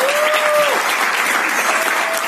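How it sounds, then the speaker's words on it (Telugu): A crowd at a star director recognition event gives SP Bharat a big round of applause, loud and dense from start to finish, with a brief thin tonal whistle riding over the clapping. "సార్ ఎస్పీ భారత్ సార్కి ఒకసారి బిగ్ రౌండ్ అప్లాజ్ ఇవ్వండి"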